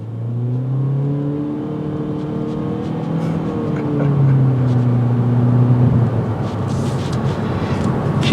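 A 2022 Honda Civic Hatch Sport pulls away from a stop, its engine note rising steadily through the revs, heard from inside the cabin with road and wind noise filling in behind.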